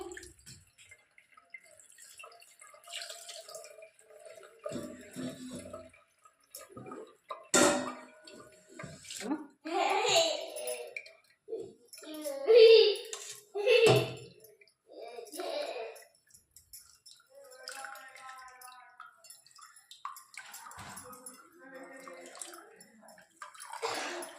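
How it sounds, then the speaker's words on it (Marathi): Running water rinses homemade paneer made from milk curdled with lemon, the splashing and trickling coming in bursts, close and moderately loud, with someone speaking between the pours. "हे पाणी छान स्वच्छ धुवून घेऊ आपण"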